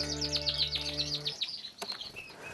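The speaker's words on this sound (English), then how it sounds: "raising and breeding canaries all year round" Canaries kept by a home breeder chirp and trill in quick, bright bursts close by over a steady low hum, then the song drops away after about a second, leaving a few faint scattered calls.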